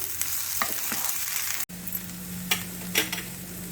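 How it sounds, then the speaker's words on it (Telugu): Cabbage and potato frying in a pan with onions for a curry, stirred from the bottom up, a close sizzle with a few scraping strokes, cut by a brief break midway followed by a low hum. "ఇప్పుడు క్యాబేజీ వేసేయండి. ఇది మంచిగా కింద నుంచి పైకి కలిపి"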